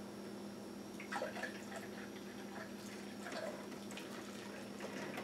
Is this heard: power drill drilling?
no